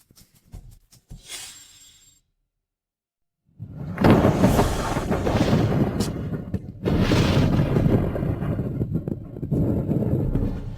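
Sky-splitting thunder as a dramatic sound effect: brief faint crackles, then a moment of silence, then a loud, sustained booming rumble that swells twice and rolls on to the end.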